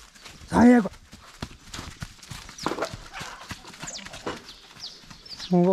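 Mares walk at a ranch in Brazil, their hooves clip-clopping in scattered close knocks, while a horse whinnies loudly at the start and again at the end and people call out briefly.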